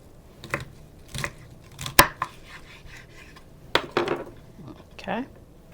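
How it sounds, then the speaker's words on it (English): Knife chopping asparagus on a cutting board for pizza topping, a handful of sharp, separate cuts with pauses between, close by in a quiet kitchen. "Rinsing them off and cutting up the asparagus and putting them on the pizza."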